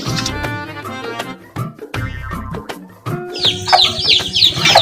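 Hens cluck in a chicken coop amid chopped, clattery sounds, with sharper higher squawks bursting out toward the end; no talk.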